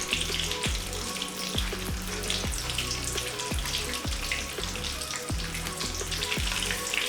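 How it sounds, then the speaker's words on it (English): Eggs fry in oil in a kadai with a loud, continuous sizzle and crackle, broken by repeated sharp popping spatters, close up and with no talking. "And I am going to fry it. Fry until it becomes golden brown."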